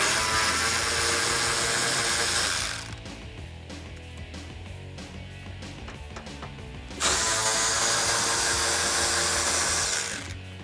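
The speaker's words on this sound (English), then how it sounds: "I'm going to take my 10mm socket on my ratchet and remove those" Ratchet with a 10mm socket taking off the inner bumper nuts on a 2005-2009 Mustang GT, a loud continuous clicking whir that drops in level partway through and then comes back strong.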